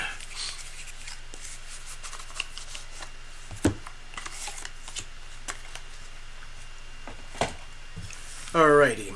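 Tarot cards are shuffled by hand in soft scattered taps and slides, ending with a louder, quick riffle.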